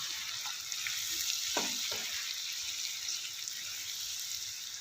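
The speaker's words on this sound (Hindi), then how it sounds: "मसाले को अच्छी तरह से भून लेंगे।" Ground spice masala of salt, dried coriander powder and red chilli powder frying in oil for Pakistani aloo gosht, a steady close hiss with a few scraping stirs of a spoon, no talking.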